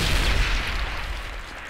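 Grenades burst in the World War II shooter Medal of Honor Airborne, a heavy booming blast up close that rolls off into a fading rumble.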